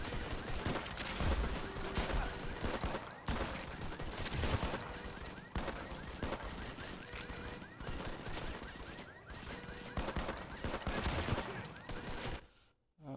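Gunfire in the mobile shooter Modern Combat 5, with handgun shots mixed into dense, rapid bursts of game weapon fire and mechanical clatter that run almost without pause, a faint voice occasionally underneath.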